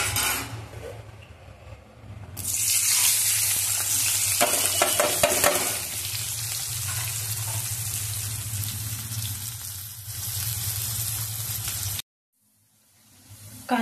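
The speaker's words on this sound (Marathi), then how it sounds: "आता मी याच्यामध्ये कांदा आणि मिरचीची फोडणी करून घेते।" Chopped onion and green chilies sizzle steadily in a spoonful of hot oil in a wok, with loud crackling, spoon scraping and stirring, before the sound cuts off abruptly near the end.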